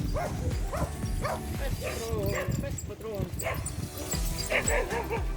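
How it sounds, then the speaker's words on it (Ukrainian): A dog barks repeatedly in short yips and woofs, fairly close, over a steady engine or road rumble with a person talking. "а той великий пес"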